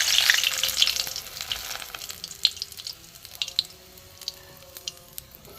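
Bitter gourd fries in mustard oil, a soft hiss that fades as scattered pops and crackles spit intermittently, close and fairly quiet.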